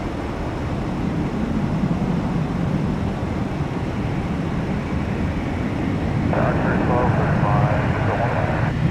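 A JetBlue airliner at Tampa airport producing a steady, loud jet engine roar throughout, with a person speaking over it.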